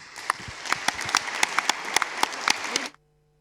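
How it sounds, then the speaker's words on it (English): A conference audience claps in steady applause for a few seconds, with a few sharp claps standing out, then it cuts off abruptly. "give a really strong round of applause"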